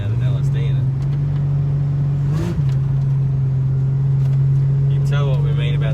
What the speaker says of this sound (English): It's happy to spin the wheels.